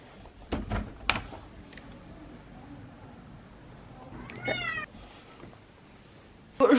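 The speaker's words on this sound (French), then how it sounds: "Et le petit chat est juste devant moi" A small cat meows at a door wanting to be let in during an autumn outing, a drawn-out harmonic mew in the middle with a sharper cry at the end, amid light knocks and rustling nearby.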